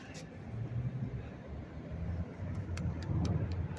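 Steady road traffic on the Las Vegas Strip near Tropicana, backed up on a hot summer morning, makes a continuous low rumble of engines and tires at moderate distance, with no breaks and no voices.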